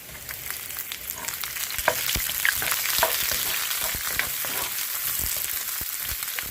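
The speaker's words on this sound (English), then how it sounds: "Let it simmer and fry a little bit" Onions sizzle and crackle steadily in hot oil for a chicken curry, with scattered pops and the occasional scrape of stirring, loud and close.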